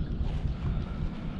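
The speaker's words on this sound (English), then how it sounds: "I'm battling the wind a bit today, so it's tricky holding position" Wind buffets the microphone in a low, steady rumble out on the water while fishing for bream and flathead from a boat, with no talking.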